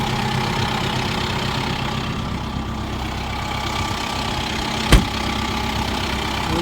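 A Kubota M4-071 tractor engine idles loudly and steadily at close range with a low, even rumble, broken by one brief sharp knock, and no talk.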